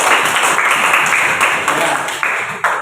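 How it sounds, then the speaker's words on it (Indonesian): Applause from a school classroom fills the moment with dense, steady clapping that slowly thins toward the end, with a few sharper claps standing out. "Tepuk tangan untuk Mas Latif"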